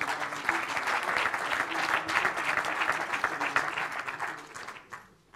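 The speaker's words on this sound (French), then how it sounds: "qu'on applaudit s'il vous plaît" An audience at a Drôme sports club presentation ceremony gives dense, sustained applause that holds steady for several seconds, then quickly fades to a few scattered claps.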